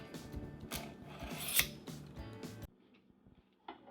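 A knife pulled through a Bavarian Edge knife sharpener makes a raspy metallic scraping, repeated several times in quick strokes, close and fairly quiet, then a pause before a final short scrape.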